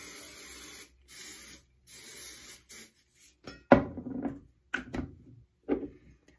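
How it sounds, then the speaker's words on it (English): Medium hold hairspray is sprayed onto hair in three short hissing bursts, followed by rustling and handling noises as the hair is touched. "Now I'm gonna take my hairspray again"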